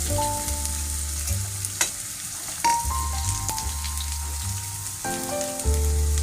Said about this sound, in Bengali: পেঁয়াজগুলো একটু ব্রাউন করে ভেজে নিতে হবে।